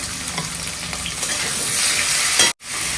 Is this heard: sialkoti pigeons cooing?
no